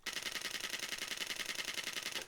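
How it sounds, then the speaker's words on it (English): A Nikon Z5II mirrorless camera's mechanical shutter firing in a rapid continuous burst, around twenty even, quick clicks at a steady rhythm, close but fairly quiet, with no speech. "So this is the shutter at full volume."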